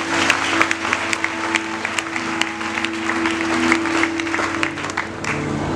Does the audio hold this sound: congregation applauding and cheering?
yes